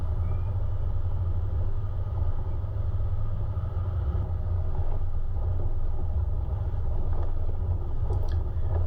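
A Toyota Land Cruiser 76 engine climbing a loose, rocky mountain track in low range, a steady deep rumble and drone that runs unbroken throughout, heard from inside the vehicle.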